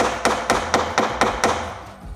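Six evenly spaced hammer blows strike on top of something during off-grid building work while clearing bushes and installing windows, sharp loud hits about a quarter second apart, then a pause.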